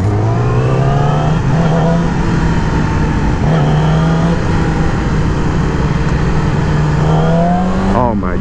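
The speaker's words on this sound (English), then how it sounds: "Oh my god, the sound of this bike" A 2020 Yamaha R6 sport motorcycle engine drones steadily and loudly close by, its pitch rising and dipping in waves, with a sharp rev near the end.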